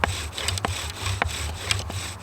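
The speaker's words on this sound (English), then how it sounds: "We're going to start by pre-drilling into the hearth." Wood rasps and rubs in short, uneven strokes as a bushcraft drill works into a wooden hearth board for friction fire lighting. The scraping is close and moderately loud, with several sharper grinding bursts.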